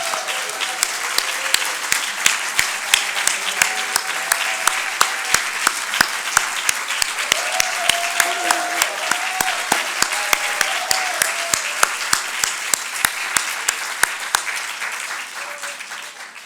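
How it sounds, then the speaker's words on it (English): Sustained audience applause at an awards ceremony, dense steady clapping filling the room with a few sharp claps standing out, continuing at even strength before tapering at the end. "round of applause."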